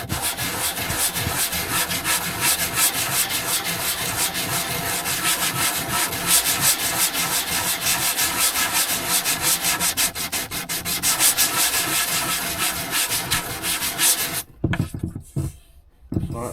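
Wood being hand-sanded on a jukebox build, a steady, close, continuous scratchy rubbing in quick back-and-forth strokes that runs unbroken before thinning into short scrapes at the end.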